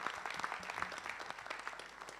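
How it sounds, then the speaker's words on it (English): Sustained applause from an audience at a polio-eradication meeting in Pakistan, honouring vaccinators: dense, steady clapping filling the whole stretch with no voices. "we should applaud them"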